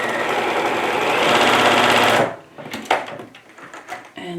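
A sewing machine stitches fabric seams for a fabric basket bag, a loud close steady mechanical whirr for about two seconds that stops abruptly, followed by quiet handling clicks and fabric rustle.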